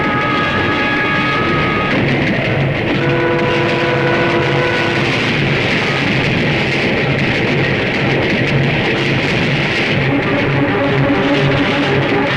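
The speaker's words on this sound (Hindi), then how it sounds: "ये ट्रेन रुकी क्यों नहीं?" A train runs straight through without stopping, a loud, continuous rumbling roar with rising and falling horn-like tones, heard close and steady throughout.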